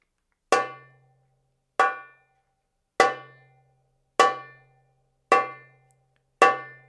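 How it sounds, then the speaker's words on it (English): Six crisp, high-pitched tak edge strokes on a darbuka, each struck with the fingertips at the drum's rim, ring out alone at a slow, even pace, each sharp attack fading within about half a second. "You're gonna use the tips of your fingers at the edge of the drum to get a high-pitched sound."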